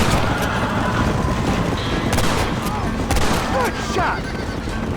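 Scattered gunshots ring out in the Red Dead Redemption western game, a few sharp cracks over a dense, loud bed of ambient noise and score, with no speech.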